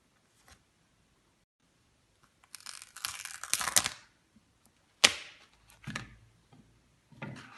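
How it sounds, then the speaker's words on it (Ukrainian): Sticky peeling and rustling of a smiley-face sticker pulled from its backing, a long crackling tear followed by a sharp snap and a few smaller crinkles, close and quiet. "Беремо схмайлик, відклеюємо його."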